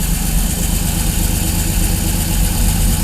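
A fuel-injected motorhome engine idles steadily on a 20-degree day right after starting, with an even, continuous chugging rumble close to the microphone.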